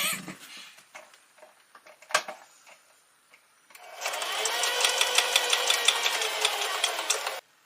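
A home sewing machine runs a zigzag stitch imitating an overlock along the seams of a pair of shorts; a few faint handling clicks come first, then the steady, rapid whirring motor and needle chatter fill the last half, loud and close.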